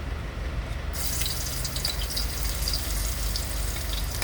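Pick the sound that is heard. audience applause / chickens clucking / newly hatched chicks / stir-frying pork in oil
stir-frying pork in oil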